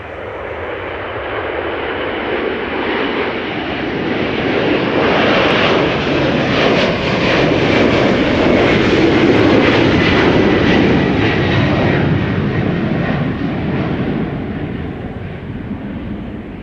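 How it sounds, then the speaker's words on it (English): A 33-year-old United Airlines Boeing 767 rolls for takeoff at Schiphol, a loud sustained jet roar that swells to a broad peak mid-run and then slowly eases as it climbs away. "United Airlines Flight 908 to Chicago has begun rolling."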